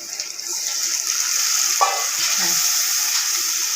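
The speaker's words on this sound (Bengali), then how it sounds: "একটু কষিয়ে নিচ্ছি" Onion, turmeric and chili sizzle steadily in a pan while being stirred for a koi fish curry, a constant frying hiss with a brief clank of utensil partway through.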